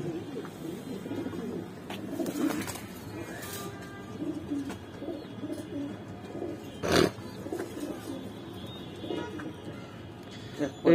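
Grizzle female pigeon cooing softly in a loft among other birds, with brief rustles and a sharp flutter, under faint background chatter.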